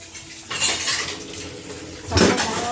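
Dishes, pots and utensils being washed in a home kitchen, with steady clinking and scraping of metal and crockery close by and a louder clatter near the end, over running-water noise and no speech.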